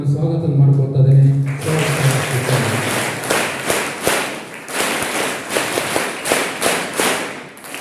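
Audience at a school lecture event claps in sustained, dense applause that starts after a brief spoken welcome, with rhythmic swells of clapping continuing loudly to the end.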